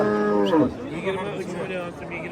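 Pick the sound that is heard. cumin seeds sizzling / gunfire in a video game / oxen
oxen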